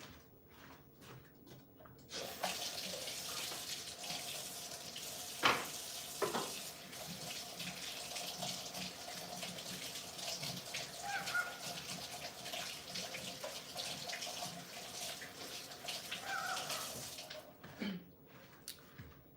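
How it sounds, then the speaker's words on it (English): Running water from a kitchen tap as hands are washed, a steady broadband rush lasting about fifteen seconds, close by, with faint clinks and no speech. "But I need to wash my hand."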